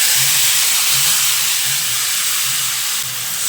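Beans, potato and tomato drop into hot tempering oil and sizzle, a loud, steady, close hiss with a faint rhythmic low thumping beneath it.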